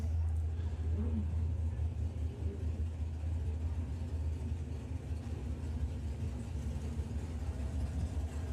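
Pro ET drag racing cars burble at a drag strip during a summer nationals meet, a low, steady rumbling engine idle heard from a distance, faint and continuous beneath the tower.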